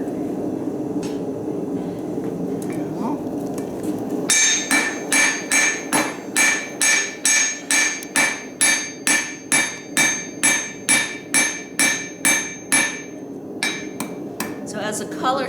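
Hot steel is hammered on an anvil by a blacksmith: after a quiet start, a long run of sharp, evenly spaced ringing metallic strikes repeats at a steady rhythm, close and loud.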